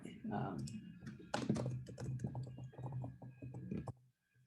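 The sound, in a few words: typing on a computer keyboard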